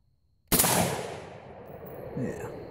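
A single rifle shot firing a Lee cast 55 grain bullet cracks sharply out of near silence, then its echo rolls away and decays over the following seconds.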